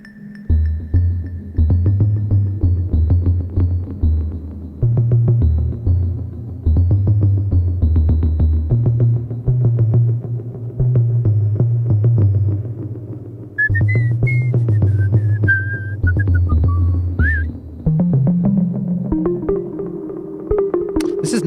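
A low, held melodic synth drone played through a cassette tape loop, with deep sustained tones shifting pitch in slow steps, lush and wavering, and a thin high whistling line drifting above partway through.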